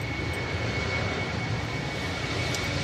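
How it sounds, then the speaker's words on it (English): On a windy day at Manchester Airport, a KLM Embraer jet rolls for takeoff with a continuous, fairly loud low engine rumble and a steady whine over it. "KLM Embraer, now on the roll"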